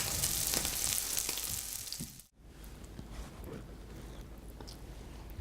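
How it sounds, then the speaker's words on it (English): Zucchini fritters frying in a pan of oil with a steady crackling sizzle. It is louder at first, then drops briefly and carries on more quietly, close by with no talking. "you're going to cook these fritters for about 3 minutes per side"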